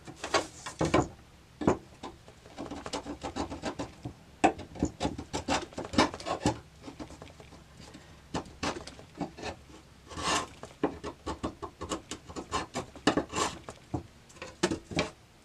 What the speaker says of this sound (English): So this is where the chisel comes in handy. We're just going to continue removing all the old glue residue.